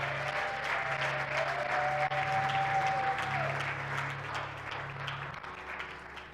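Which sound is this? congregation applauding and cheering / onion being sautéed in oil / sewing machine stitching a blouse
congregation applauding and cheering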